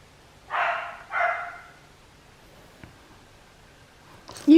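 A small pet dog barks twice in quick succession indoors, fairly close, followed by a quiet pause with a faint tap and a brief rustle at the end.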